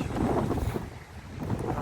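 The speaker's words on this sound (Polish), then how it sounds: "Jak wali przy wietrze." Strong wind buffets damaged construction barriers outside Galeria Malta, a steady loud roar with gusty swells that fills the whole short stretch.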